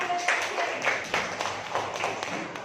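Rhythmic group clapping in a classroom coaching session, a few loose bursts of claps over a steady murmur of background noise, moderately loud and close.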